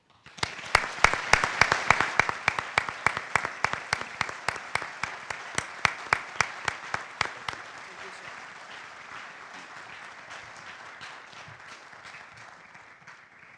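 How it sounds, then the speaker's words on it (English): An audience applauds at a university Army ROTC commissioning ceremony, with sharp, rhythmic, loud claps up front at first. The clapping settles into a softer, sustained wash of crowd applause that gradually fades. "I'd ask all here in the audience to join me with one more round of applause"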